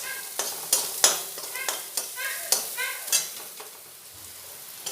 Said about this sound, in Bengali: দিয়ে পেঁয়াজটা ভালোভাবে ভেজে নেব।